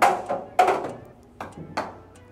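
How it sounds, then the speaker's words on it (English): A mini golf ball rolls and drops into the cup during a hole-in-one trick shot challenge, giving several soft thunks and taps over about two seconds with faint voices nearby. "First hole-in-one."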